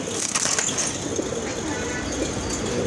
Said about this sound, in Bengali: আর এক জোড়া কবুতর